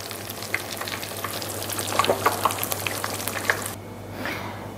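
Oil sizzling and crackling steadily as calzagatti dough fries, with scattered pops and light stirring sounds, fairly close, fading near the end.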